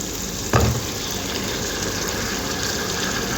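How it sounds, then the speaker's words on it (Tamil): Chopped bottle gourd hits a hot oiled pan with a sudden loud burst of sizzling, which settles into a steady frying hiss that carries on to the end. "நம்ம சொரக்காய் போடுவோம்"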